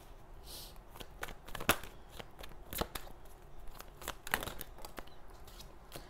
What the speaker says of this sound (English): These cards are just flying all over the place.